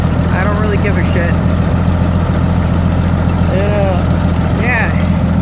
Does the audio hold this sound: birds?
no